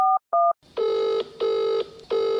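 A telephone keypad sounds two short, loud dialing beeps, then three long, evenly spaced ringing tones follow as the call connects, close and clear with no talking.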